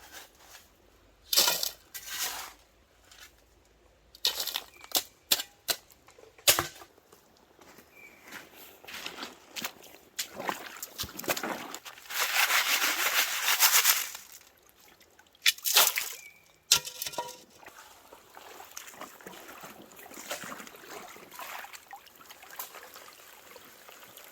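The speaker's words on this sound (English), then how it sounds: "we've got the gravel, and we're just taking this gravel off" Gravel is scraped and shoveled off hard, smooth clay at a gold-prospecting site, giving bursts of crunching and grinding rock with pauses between, plus a longer rough scraping stretch near the middle.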